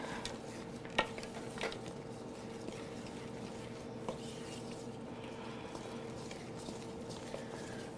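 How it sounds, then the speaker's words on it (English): Banana bread batter being mixed in a bowl, soft scraping and stirring with a few light clinks of utensil against the bowl, quiet and close, no talk. "Give it all a mix."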